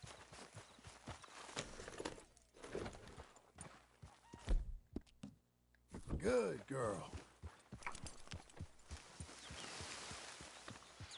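Hooves of a horse clip-clop at a walking pace in Red Dead Redemption 2, steady and fairly close, with a short quiet gap midway. Someone speaks over the steps.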